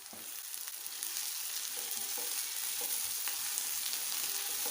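Potatoes and okra frying in a pan with fresh coriander and green chilli, a steady soft sizzle with faint scraping stirs, close and even throughout, no voices.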